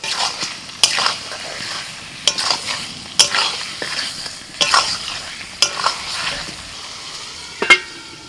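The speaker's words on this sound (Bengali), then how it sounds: "এবার আমি দিয়ে দিচ্ছি চিকেনটা ম্যারিনেট করে রেখেছিলাম" Marinated chicken frying in spice paste and stirred in a pan, with a steady sizzle broken by repeated scraping stirs in an irregular rhythm, close and moderately loud, with no talking.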